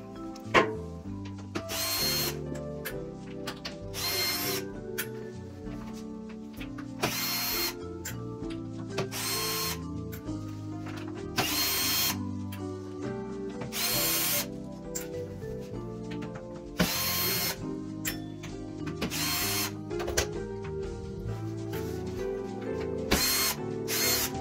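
A power drill whirs in repeated bursts while backing screws out of the rear panel of an AEG dryer, short loud runs separated by pauses, close up with no talk.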